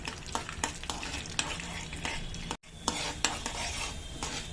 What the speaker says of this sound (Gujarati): એમાં અડદની દાળ ઉમેરીશું થોડી 2 ચમચી જેટલી અને 1 ચમચી જેટલી ચણાની દાળ લીધી છે। હવે થોડી વાર આને પહેલે સાતળીશું આપણે